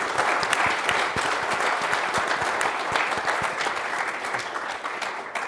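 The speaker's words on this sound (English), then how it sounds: "if you all could join me in applause to thank our panelists" Audience applause at an aerospace forum panel session, a dense steady clapping from a large crowd that holds loud and even throughout before easing slightly at the end.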